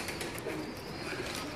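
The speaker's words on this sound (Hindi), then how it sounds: "कबूतर" A pigeon coos softly at a courtyard loft in Rawalpindi, a low, murmuring call repeated under a steady wash of ambient outdoor noise, faint and somewhat distant.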